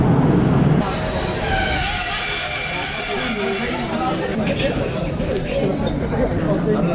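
A train pulls into a station in northern Poland after a long delay, its wheels squealing loudly on the rails in high sustained screeches over a heavy rumble, with a brief burst of louder noise at the start.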